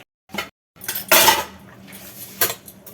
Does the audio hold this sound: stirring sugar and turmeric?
yes